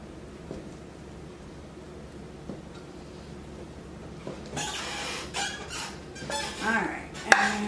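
Bread dough stirred by hand in a bowl gives scraping and knocking against the bowl, a quiet stretch first and then busier clattering scrapes with a few sharp squeaks.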